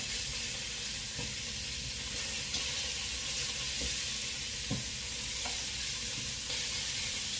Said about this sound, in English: Now y'all know y'all hear that sizzle.